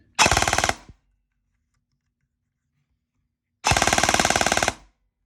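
An Mk18 rifle fires two fully automatic bursts of about half a second each, separated by a long silence. The rapid shots come close together, loud and sharp, with no talking.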